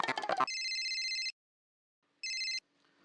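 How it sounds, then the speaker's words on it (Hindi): A telephone rings in a domestic sitcom scene, with two electronic bursts separated by a gap, loud and close, just after a brief noisy clatter. "मैं अभी टप्पू के पापा को फोन करती हूँ"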